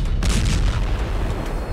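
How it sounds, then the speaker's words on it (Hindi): A heavy, rumbling boom from two planes crashing to the ground after a mid-air collision, with a broad roar of noise that sustains and slowly fades, loud and close, with no voices. "फिर जबरदस्त धमाके की आवाज के साथ दोनों प्लेन जमीन पर आ गिरते हैं"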